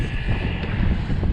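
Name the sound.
strong wind while cycling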